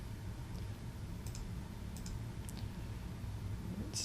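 Quiet, sparse clicking of keys on a computer keyboard during a programming assignment, soft keystrokes scattered over a steady low room hum with no talking.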